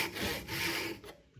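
A hand saw cuts through a wooden workpiece in a practical woodworking exam, giving a steady rasping stroke, a brief pause, then a stroke that tails off, close and fairly quiet.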